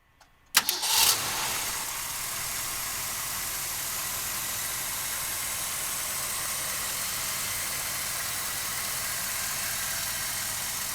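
A 1967 Mercury Cougar's 390 V8 cranks briefly and catches, then settles into a loud, steady rumbling idle that runs on without a break. No one speaks.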